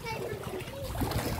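Sea water from high tide flooding a residential area splashes and sloshes close by while people, including a child, talk over it.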